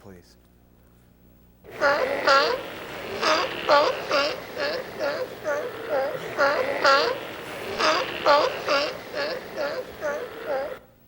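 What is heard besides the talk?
walrus call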